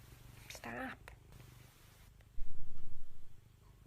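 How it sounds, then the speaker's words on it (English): A cat purrs close by in a rhythmic burst of pulses near the end, following a brief squeaky vocal sound and some quiet background noise. "This person owns an overly aggressive romantic cat."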